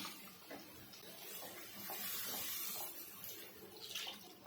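Water poured from a vessel into dry curry masala in a pan for a Malvani fish curry, a soft continuous splashing and gurgling pour heard quietly at close range.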